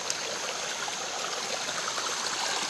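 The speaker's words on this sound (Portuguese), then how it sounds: "A água mina por tudo quanto é canto, ó." Small stream in the Caatinga running after heavy rains, water trickling and gushing steadily over the ground; a continuous, close, even babble of flowing water with no voices.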